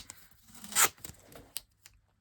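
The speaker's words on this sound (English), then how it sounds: "I'm going to get my masking tape and bring this down." A short, sharp rip of masking tape being pulled and torn, followed by a few quieter crinkles and taps.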